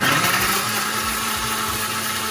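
An electric mixer grinder grinds soaked moong dal into batter for vada, giving a loud, continuous whirring drone that holds steady throughout, with no voices.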